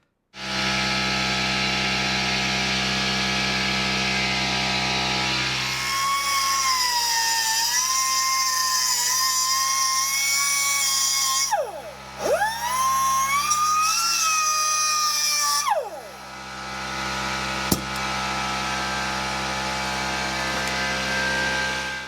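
A drill bores out rivets on the front suspension of a 1973–77 Chevy C-10 square-body truck, its loud, steady whine shifting in pitch as the bit bites, with brief dips and a final tap, and no talking.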